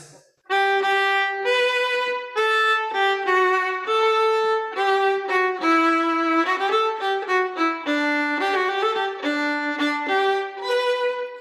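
A violin plays a simple, unornamented version of a song by Sayyid Darwish, one clear note after another with short gaps, each tone held plainly and steadily.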